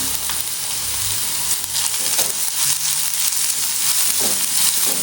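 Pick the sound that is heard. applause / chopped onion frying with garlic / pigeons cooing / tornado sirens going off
chopped onion frying with garlic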